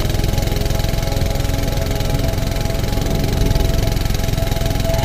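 A motorcycle engine drones steadily on a rainy forest road near Kaptai Lake, loud and constant, with a low rumble and a rushing wash of wind and rain through the whole stretch.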